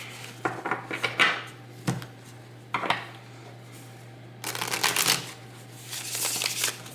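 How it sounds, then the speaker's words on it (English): Tarot cards shuffled by hand in a quiet room, a series of short papery riffles and taps in irregular bursts, with a longer rustling run near the end, close and fairly soft over a low steady hum. "I just don't feel like I gave it enough shuffle and put enough intention."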